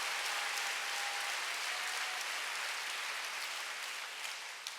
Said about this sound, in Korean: 박수 좀 세게 쳐봐요 진짜